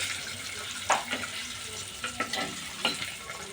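Eggs frying in a pan for egg curry, giving a steady hissing sizzle with a few sharp spits and pops, close and moderately loud, with no talking.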